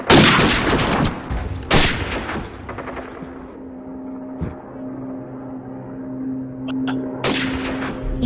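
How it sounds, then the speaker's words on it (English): AK rifle gunfire in a video game, heard as several loud bursts of shots: a sustained volley at the start, another sharp burst shortly after, then a final loud burst near the end, with quieter game ambience between. "He pulled out a freaking AK."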